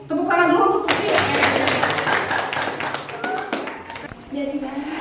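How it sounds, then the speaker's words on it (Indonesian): A classroom group claps in a brief burst of light applause. Talk is heard just before and after it. "Tepuk tangan dulu untuk Putri."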